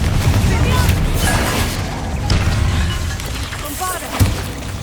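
Confringo blasting spells in Hogwarts Legacy go off in a string of loud booming impacts and crackling bursts over a busy battle backdrop.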